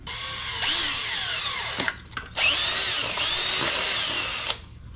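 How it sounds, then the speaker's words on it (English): A power drill bores through a Power Wheels rubber tire on a 36V Mustang kids' ride-on, whining in two sustained close bursts with a short pause and rattly catches between them, no voices. "we're gonna go ahead and drill right through this"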